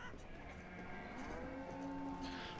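Cattle lowing in the medieval city-building game Banished, a pair of steady, drawn-out moos rising over a continuous low ambient game backdrop, moderately loud and without any talk.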